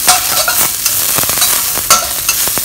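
Tofu and aromatics for kung pao tofu are stir-fried in a hot pan, giving a loud, continuous sizzle broken by repeated quick scrapes and tosses of the spatula.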